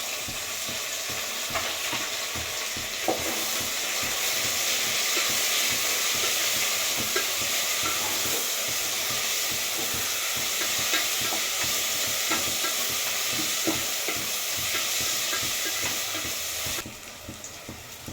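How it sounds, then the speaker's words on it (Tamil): Onion, mint and coriander sautéing in a pan, a dense steady sizzle with frequent scraping stir strokes, close and loud throughout, ending abruptly, no talking. "வெங்காயம் புதினா கொத்தமல்லி வதங்கிச்சு"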